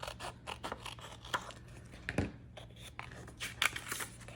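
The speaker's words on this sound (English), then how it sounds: "now I'm gonna use my scissors and cut off the end here" Scissors snip through the end of a handmade notebook's cover, a run of short crisp cuts and rustles with one sharper scrape midway, close and fairly quiet over a steady low hum.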